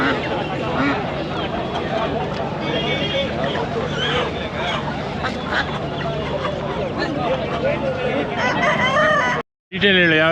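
Chickens cluck and a rooster crows amid a busy poultry market near Bangalore selling country fowl and turkeys, with several people talking loudly nearby throughout.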